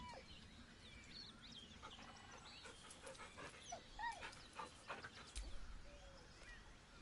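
A dog whines and whimpers softly in Baldur's Gate 3, with several thin high cries and faint panting over a low, quiet background.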